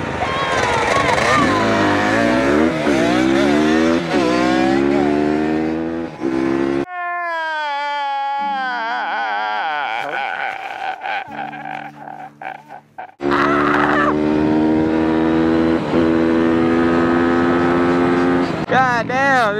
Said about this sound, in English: 2003 YZ85 versus the Chinese famous pit bike